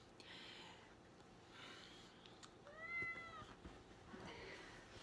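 A cat meows a few times, close by, with a clear rising and falling cry near the middle, over a low steady background hum.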